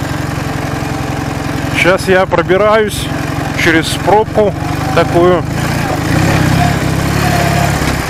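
An air-cooled Ural motorcycle engine idles and putters steadily in a city traffic jam, a loud continuous low throb close to the rider, who talks over it at intervals.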